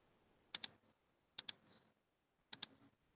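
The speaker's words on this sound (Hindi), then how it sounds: "ये अमाउंट आप यहाँ पे टाइप कर दें।" An amount is typed on a computer keyboard in Tally accounting software: three quick pairs of crisp key clicks, close and isolated, separated by short silences.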